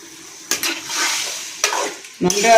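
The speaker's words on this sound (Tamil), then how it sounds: "பப்பாளிக்காய் வதக்கிட்டு இருக்கமே அந்த தண்ணியை வந்து புளி தண்ணியை இதில் ஊற்றணும்." Tamarind water goes into sautéed raw papaya for a dried-fish papaya curry and is stirred in the pan, giving soft, close stirring scrapes and a light sizzle in a few bursts.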